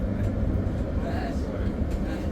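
Steady, loud rumble of a light rail train ride in Canberra, with continuous low-frequency roar and rattling throughout, no pauses.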